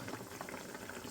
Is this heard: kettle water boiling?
yes